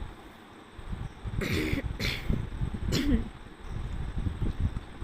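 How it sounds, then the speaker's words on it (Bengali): A person with a cold coughs outdoors in a vegetable garden: three short, harsh bursts close to the microphone over steady wind-like background noise. "ঠান্ডা লেগেছে, কাশি হচ্ছে।"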